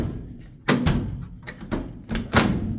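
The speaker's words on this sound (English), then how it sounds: "It's a little hard to open the doors." Doors on a 1970 Dodge W100 truck being opened: several solid thunks and clunks in quick succession, close and fairly loud, with a short latch rattle between them.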